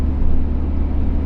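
Steady low engine rumble and road drone inside a restored old ex-taxi car cruising on a smooth road, continuous and moderately loud with no talking.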